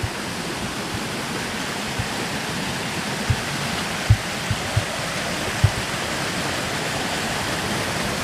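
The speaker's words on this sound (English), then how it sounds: "That rushing water" Water rushes steadily down a mountain stream along a hiking trail, a dense, even roar close by with a few faint knocks or footsteps over the top.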